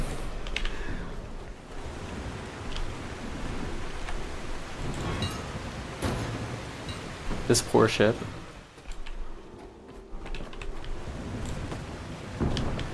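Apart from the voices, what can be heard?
rain and thunder in a video game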